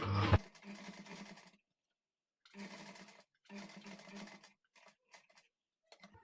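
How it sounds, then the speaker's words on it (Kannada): A domestic sewing machine stitching a blouse runs in short, faint bursts of rapid whirring stitches separated by silent pauses, ending in a few brief taps. "ಈ ಥರ ನೀಡಲ್ ಒಳಗಡೆ ಇಳಿಸ್ಕೊಂಡು ಟೆನ್ಷನ್ ಮೇಲೆ ಕೆತ್ತಿ ತಿರುಗಿಸ್ಕೊಂಡು ಆಮೇಲೆ ಸ್ಟಿಚ್ ಮಾಡ್ಕೊಳ್ಳಿ"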